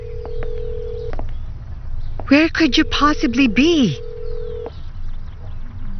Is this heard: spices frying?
no